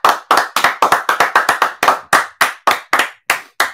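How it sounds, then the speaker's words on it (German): A single pair of hands claps close up in a quick, uneven series of about seventeen sharp slaps, slowing slightly toward the end, for Joshua at a live giveaway. "Ein Applaus für Joshua"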